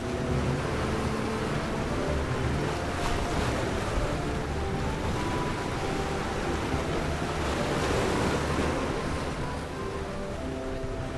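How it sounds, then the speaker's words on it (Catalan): Rough, choppy sea around the small Formigues islands heard from a boat, a constant broadband rush of waves and wind with faint engine hum underneath, steady and close for the whole stretch. "Com que el mar està força mogut"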